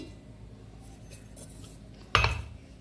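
A spoon works ground sesame, peanut and jaggery powder together in a mixing bowl, giving a faint, steady rubbing, then one sharp metallic clank with a brief rattle near the end; no one speaks.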